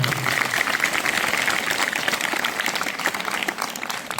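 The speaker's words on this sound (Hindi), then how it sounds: "मैं चाहूंगा कि एक बार जोरदार ताली बजा दीजिए" Audience applause at a gathering in Pratapgarh honouring a district topper, a large crowd clapping vigorously in a dense, continuous roar of claps, loud and sustained without pause.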